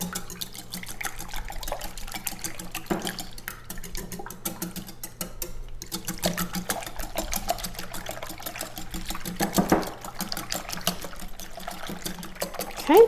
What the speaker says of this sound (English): In this bowl, I have 7 eggs that I've cracked. We'll just go ahead and give those a little bit of a mix.